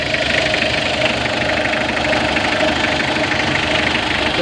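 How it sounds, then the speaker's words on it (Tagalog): An overhauled Mitsubishi L300 4D56 diesel engine runs steadily at idle during break-in, a loud, even clattering drone with a constant rhythmic knock, close by and alone. "So binibreak in na lang namin yung overhaul natin ng makina ng Mitsubishi L300 diesel."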